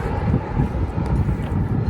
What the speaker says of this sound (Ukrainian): І вітер піднявся